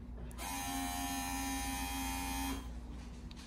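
A micro pump on a printer's maintenance controls runs with a steady electric hum and buzz for about two seconds, starting and stopping abruptly, close up and alone.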